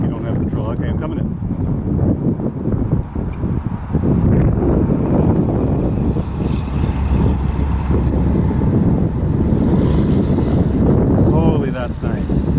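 HobbyZone Glasair Sportsman RC airplane with a propeller engine on its maiden flight, a steady drone beneath constant wind buffeting on the microphone, with a person talking over it.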